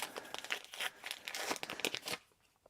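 A trading card booster pack wrapper is torn open up close, giving a quick series of crisp crinkles and ripping foil sounds that stop abruptly near the end.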